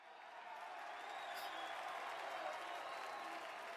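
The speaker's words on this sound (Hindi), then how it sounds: "एक बार पीछे तक जितने लोग बैठे हाथ उठाकर जोरदार तालियां दिल्ली विद्यापीठ के लिए बजाइए आप।" Sustained applause from a seated audience at a Delhi Vidyapeeth gathering, a dense even wash of clapping that swells in the first half second and holds steady to the end.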